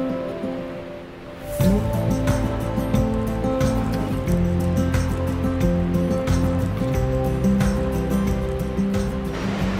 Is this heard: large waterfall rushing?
yes